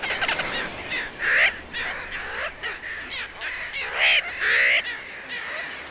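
Dense sooty tern seabird colony calling, many overlapping harsh, nasal cries rising and falling continuously, with several louder close birds standing out above the steady clamor.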